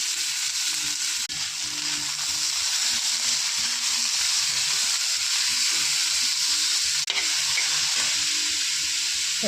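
Shredded cabbage sizzling in a hot pan with salt, turmeric, black chilli powder and crushed peanuts, a steady loud frying hiss throughout, with a couple of brief stirring clicks.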